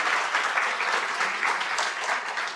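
Audience applause at a 2024 Leadership Westchester graduation, a full steady roar of many people clapping together, close and alone without talk.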